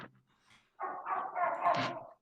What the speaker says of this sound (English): My dog just going crazy.